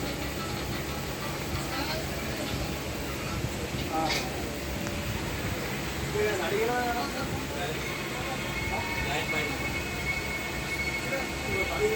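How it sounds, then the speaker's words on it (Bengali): Train rushing past on a fast Indian railway line of the South Eastern Railway, heard from a stationary train as a steady, loud rumbling roar with wheel and wind noise throughout. "একটা ট্রেন এই গেল।"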